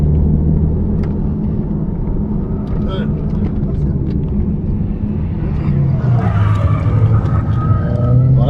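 A Lamborghini accelerating on a race track, its engine rumbling loudly and rising in pitch toward the end, under continuous talk from the driver inside the car.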